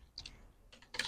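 Small plastic clicks as an EFIX F7 rover bracket snaps into place, a quick pair of faint clicks followed by a louder double click at the end, quiet and close.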